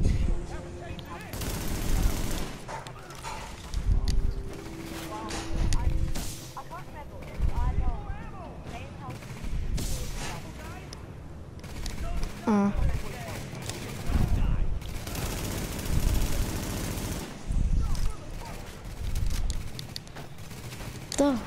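Rifle and automatic gunfire crackle in repeated bursts during a firefight in Tom Clancy's The Division, loud and close, mixed with game voices and a player talking.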